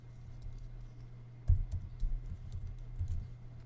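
Keys on a computer keyboard tapped while entering a script name in the Unity editor, a few soft scattered clicks with one slightly louder burst near the middle, faint and close with no talking.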